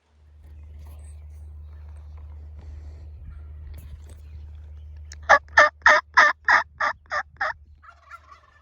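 A wild turkey gobbles loudly from fairly close by, a rapid run of about eight rattling notes after several seconds of low engine-like rumble.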